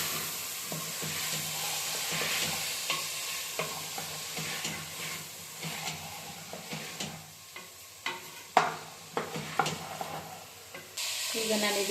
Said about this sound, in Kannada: ಇವಾಗ ನಾನು ಇದು ಹಸಿ ಬಟಾಣಿ ಹಾಕ್ತಾ ಇದ್ದೀನಿ. ಸ್ವಲ್ಪ ಸುತ್ತು ಹುರ್ಕೋಬೇಕು ಎಣ್ಣೆಲಿ.